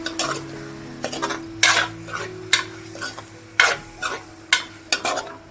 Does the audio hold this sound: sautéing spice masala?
yes